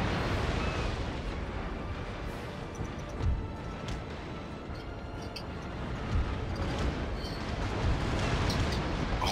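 Cannon volleys roar through a naval battle in the video game Napoleon: Total War, a dense, continuous rumble of broadside fire with heavier booms swelling near the middle and end.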